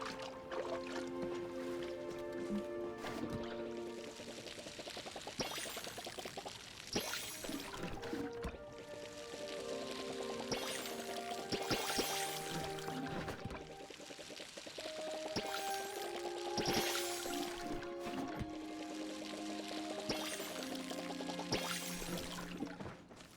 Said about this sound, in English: I didn't realize I still need to water it.